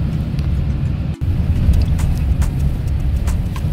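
A four-wheel-drive truck drives a snowy road, a steady low engine and road rumble that stays close and continuous, with a brief dip partway through.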